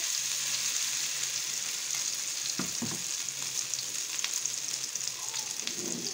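Chicken rolls fry in hot ghee with a loud, steady crackling sizzle throughout, broken by a few soft clinks and stirs of a utensil in the pan.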